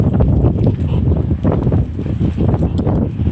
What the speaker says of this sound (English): I'll show you how windy it is.